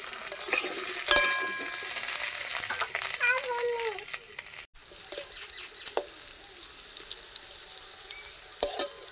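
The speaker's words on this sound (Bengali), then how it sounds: "এবার আলুগুলো ভেজে নেবো।" Potato pieces fry in hot oil in a pan, sizzling and crackling steadily up close, with a few louder spatters and utensil scrapes breaking through a continuous hiss.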